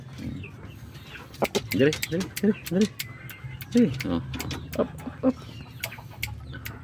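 Repeated Shamo chicken clucks in short bursts, fairly close, with a person talking over them and a low background hum throughout.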